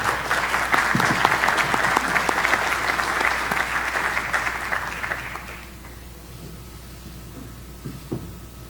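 Applause from a conference audience welcoming a prime minister, a dense steady clapping that holds loud for about five seconds and then fades away, leaving quiet room noise with a couple of faint knocks.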